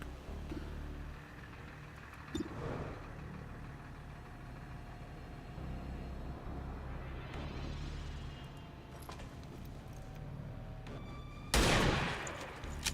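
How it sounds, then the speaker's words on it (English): Gunfire in the tactical strategy game XCOM 2: Long War of the Chosen, a few scattered shots and a low engine hum before a sudden loud burst of fire near the end. "I'm gonna start shooting."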